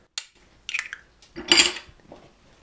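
Dry ingredients of flour, cornstarch, baking powder and salt being stirred in a bowl, heard as a few sharp clinks and scrapes of utensil against the bowl, with short pauses between them.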